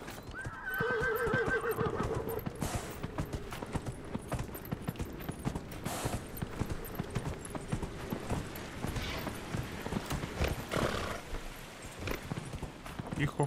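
Horse hooves clip-clopping in a steady gallop in the video game Dragon Age: Inquisition, with a loud neigh near the start, continuous and fairly close amid game background noise.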